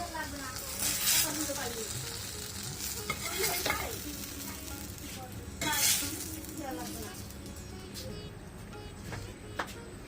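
Eggplant slices sizzle in hot oil in a pan, a steady crackling hiss broken by a few louder bursts as the spoon presses and shifts the pieces, close by; a voice speaks now and then over the frying.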